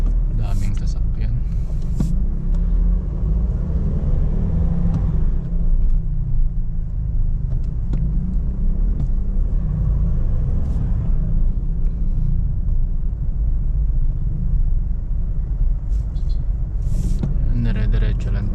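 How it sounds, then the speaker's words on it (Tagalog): Heavy car traffic on a Makati road toward Ayala Avenue, heard from inside a Nissan Terra VL Sport: a steady low engine and road rumble with passing vehicles, people talking over it. "Traffic nga lang dito ngayon."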